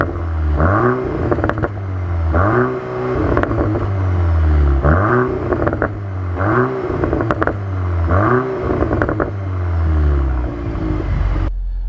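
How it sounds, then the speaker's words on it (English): A 2025 Audi S3 engine is revved repeatedly in a steady pattern, about five sharp blips climbing and dropping back to idle, loud and close with no talking. "I have actually filmed a little rev, so I can dump it into this video right about now."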